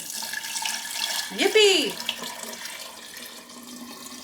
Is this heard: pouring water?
yes